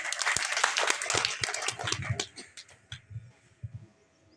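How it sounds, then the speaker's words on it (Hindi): An audience at a coaching centre event applauds to welcome a guest speaker, a loud burst of many hands clapping that thins out into a few scattered, fading claps before quiet. "जोरदार तालियां"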